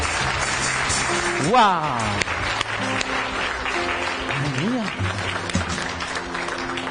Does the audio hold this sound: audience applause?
yes